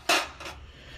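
A head gasket drops onto a workbench in an engine shop, giving a sharp metallic clatter followed by a second, softer rattle as it settles, close and otherwise quiet.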